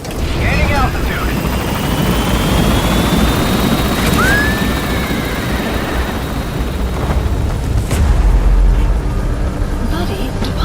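Helicopter lifting off from a landing zone in Metal Gear Solid V, a loud continuous rotor roar with turbine whine that holds steady throughout, with a brief rising tone and a low rumble swelling near the end.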